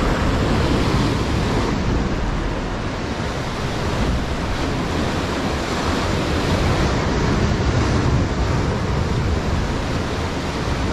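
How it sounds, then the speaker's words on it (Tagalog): Ocean waves surge and crash continuously, with a broad roaring wash and wind buffeting the microphone; no voices. "Grabe yung alon, nakakatakot mga master."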